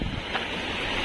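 Strong rushing water roars in a steady, dense wash close to the microphone, with wind-like buffeting and no voices.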